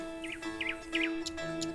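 A nightingale sings in a cherry orchard beside a house, giving a few quick, faint chirping phrases over a low steady hum.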